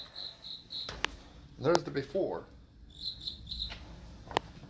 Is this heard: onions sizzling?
no